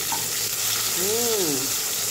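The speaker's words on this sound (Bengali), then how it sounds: "মাছগুলো ভীষণ তেল ছিটাচ্ছে আজকে, জানি না কেন, খুব তেল ছিটাচ্ছে।" Fish fry in hot oil that splatters hard, giving a loud, steady crackling sizzle throughout, with a brief rising and falling tonal squeal near the middle.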